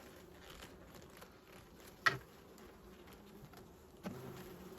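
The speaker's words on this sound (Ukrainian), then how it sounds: "Дуже тут багато бджоли." Faint buzzing of honeybees at an open hive hums steadily in the background, with a couple of sharp clicks or knocks cutting through; no voices.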